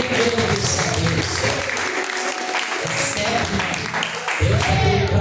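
Dense applause fills a live church service, mixed with voices and a busy backdrop of sound, staying loud and continuous with a short dip in the low end before returning at full strength.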